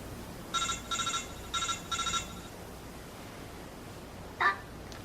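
Phone text message alert tone: four short, bright electronic beeps in two quick pairs, then a single brief chirp, fairly clear over faint background hiss.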